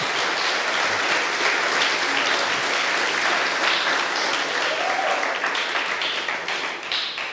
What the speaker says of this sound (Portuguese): aplauda o nome do Senhor bem forte.